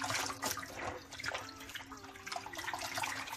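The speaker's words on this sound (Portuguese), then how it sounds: "e vou mergulhar a toalhinha dentro desta água com sal." A small face towel is dipped and moved about in salt water in a laundry tub, giving splashy, sloshing water sounds and drips in close, uneven bursts.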